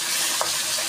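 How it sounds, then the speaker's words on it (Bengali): Fish frying in a pan for a home-cooked cauliflower and potato fish curry, a steady close hiss of sizzling oil with a brief brighter crackle midway, no voices. "এই দেখো এখানে মাছ ভাজা করছি"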